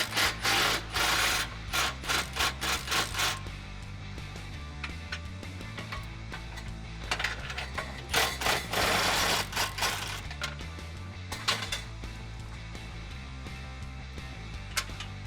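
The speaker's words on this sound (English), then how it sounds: "now we're gonna get the last 4 nuts off." Ratchet wrench removing bumper nuts from the inside of a Jeep Wrangler JL frame rail: bursts of rapid mechanical clicking and rasping come in several close, loud runs separated by short pauses.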